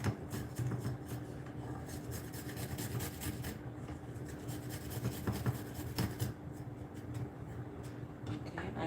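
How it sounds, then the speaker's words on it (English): Garlic cloves being grated on a large kitchen grater at home: steady rasping scrapes in quick repeated strokes, fairly close and continuous, with no talk over it. "I grate my garlic"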